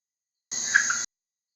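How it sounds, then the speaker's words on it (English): Red-eyed tree frog (Agalychnis callidryas) giving its double-note croak, a single short, bright chack-chack burst lasting about half a second, close and clear against a quiet background. "The second call builds on the first, a double note croak, chack chack."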